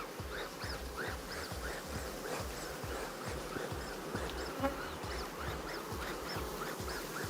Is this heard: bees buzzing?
yes